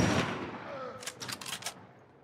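Gunfire in The Last of Us Part 1, a burst of several quick, fairly distant shots in close succession after a fading rumble, with no talk over it.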